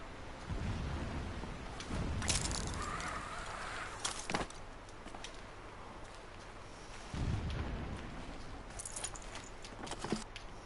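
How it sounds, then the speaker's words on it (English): In the video game Horizon Zero Dawn, distant explosions sound as several muffled, deep booms spaced seconds apart over quiet ambient background. "Explosions in the distance."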